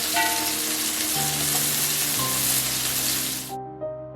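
Chopped onions fry in hot oil with whole spices for mutton dum biryani, giving a loud, steady sizzle that runs unbroken to the end without any talk.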